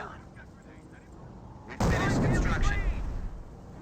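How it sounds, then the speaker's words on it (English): An incendiary mortar round lands with a sudden heavy boom in a Company of Heroes match, a crackling roar trailing off over a few seconds, after quieter battlefield ambience and faint talk in the background. "And that's incendiary mortar."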